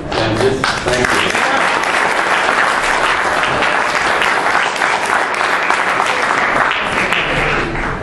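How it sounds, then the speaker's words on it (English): A crowd applauds loudly and steadily in a hall during a Connecticut 5th Congressional District debate in Waterbury, the dense clapping sustained for several seconds with a voice briefly audible beneath. "give yourselves a round of applause"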